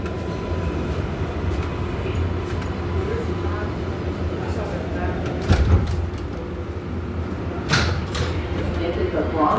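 An NYC subway R142A train running on the Bronx-bound 6 local: a steady, loud rumble of wheels and motors fills the car throughout, with a couple of sharp rattling bursts over it.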